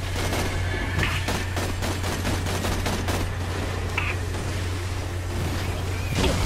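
Gunfire in Borderlands: The Pre-Sequel aimed at a boss's eyes: rapid, repeated shots in quick bursts, loud and close, over a steady low game drone.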